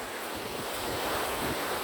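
Sea waves roll in where the sea meets a river in Palawan, a steady broadband wash with some wind noise and no talking over it.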